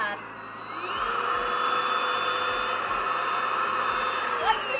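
A vacuum cleaner runs steadily in an office, a loud continuous whine and roar that holds for several seconds, with faint rhythmic thumps in the low end beneath it.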